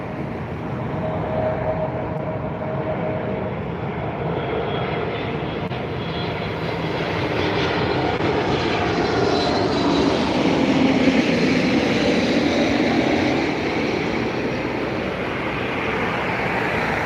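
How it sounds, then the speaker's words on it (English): Aer Lingus Airbus A321 XLR jet airliner arriving at Dublin Airport, a steady loud engine roar that swells slightly mid-way and holds for the full stretch, heard from nearby with no talking. "That's an Aer Lingus A321 XLR right there."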